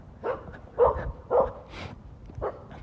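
A dog barks in a quiet room at midnight: about four or five sharp, moderately close barks and yips in an uneven rhythm, with no talk over them.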